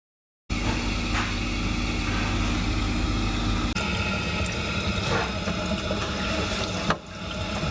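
Water gushing steadily from a split, rust-marked pipe, a loud continuous rushing that sets in abruptly after a brief silence and holds with little change, with a few faint clicks over the top.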